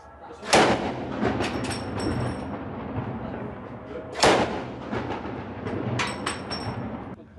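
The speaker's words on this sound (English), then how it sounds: "You can hear the gunfire still going on." Two heavy booming shots about four seconds apart in Aleppo, Syria, each with a long rumbling tail, distant gunfire over a steady low background hum.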